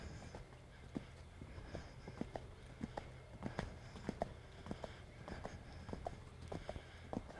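Horse hooves clip-clopping at a smooth, sitting canter during a hunter under saddle class, a quiet, fairly regular sequence of soft thuds with no one speaking.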